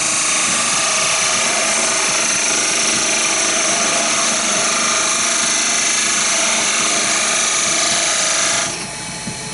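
Lathe turning a wooden chess king piece, a steady loud whirring and rattling hum with a continuous high whine that runs unbroken before dropping away abruptly at the end.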